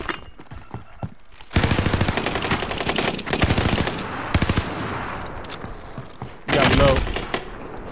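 Rapid automatic gunfire from a gun in the Call of Duty Warzone video game, several loud sustained bursts separated by short pauses, with a player talking over parts of it.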